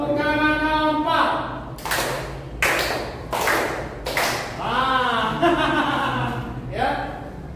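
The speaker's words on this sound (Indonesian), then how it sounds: "Tepuk tangan 4." A class of students clapping hands in counted beats during a lesson, several sharp group claps in a row, evenly spaced and loud, with a voice speaking between and around them.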